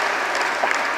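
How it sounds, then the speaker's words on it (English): Audience at an International Day of Yoga event held by a university NSS unit clapping to welcome a guest: a brief, dense burst of many hands, close and fairly loud, with no talking. "More claps."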